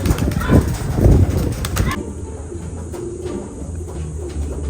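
Racing pigeons near a home loft, with bursts of wing flapping and fluttering at the start, then softer cooing and scattered bird sounds against a quieter outdoor background.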